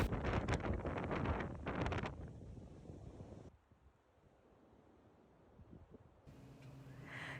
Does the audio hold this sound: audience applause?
no